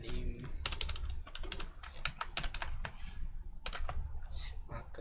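Quick bursts of keystrokes on a computer keyboard as a name is entered into Typing Master Pro setup, irregular clusters of close clicks with brief pauses, under a man's speech.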